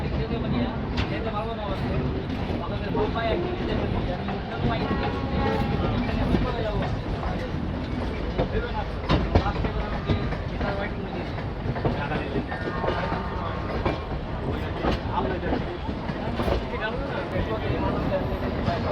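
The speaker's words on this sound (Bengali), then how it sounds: "খুব সুন্দর একটা কার্ভ নিয়ে ট্রেন ধীরে ধীরে হাওড়া স্টেশন থেকে বেরোচ্ছে" A train rumbles and rattles steadily along the tracks with rhythmic clacking, close and fairly loud, while people talk in the background, as the Howrah–Dibrugarh Kamrup Express slowly leaves Howrah station on a curve.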